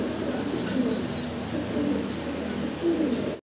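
A pair of Roman pigeons coo in soft, low, repeated calls, fairly close but quiet against a steady background hum, with no talk over them.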